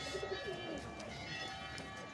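Pigeons cooing, faint soft low coos near the start against a noisy, hissy background.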